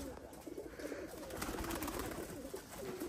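Many pigeons coo together inside a pigeon loft, soft overlapping coos running continuously at moderate distance, with faint background voices.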